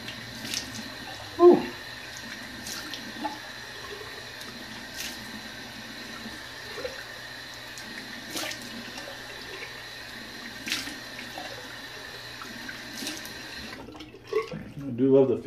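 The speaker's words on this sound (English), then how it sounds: "Let me cold water rinse" Cold water runs from a bathroom sink tap for a rinse after a shave, a steady faint close hiss with a few clinks and splashes, then brief louder handling noise near the end.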